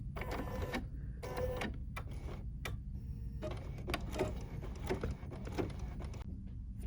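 An embroidery machine stitching a red handle runs in a rapid, mechanical chatter with quick repeated ticks and pauses between bursts, close and moderately quiet.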